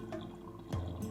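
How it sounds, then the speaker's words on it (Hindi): Water drips from a leaking tap indoors, a few soft separate drops over a faint background hum. "जाके देखो नल से पानी टपक रहा है।"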